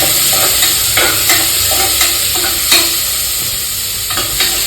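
Onions frying in a pan for tomato bath give a steady loud sizzle, broken by repeated stirring scrapes at a fairly even rhythm, heard up close with no voices.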